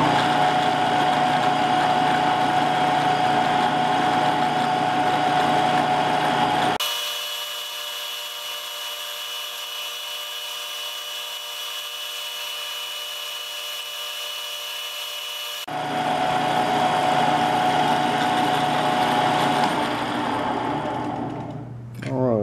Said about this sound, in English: Now we're going to drill straight through with a quarter inch